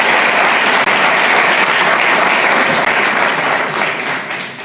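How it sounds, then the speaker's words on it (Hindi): Loud, dense audience applause from a large crowd, continuous throughout and slowly fading toward the end. "उसके लिए भी सर के लिए बहुत बड़ी ताली दे दीजिए प्लीज़"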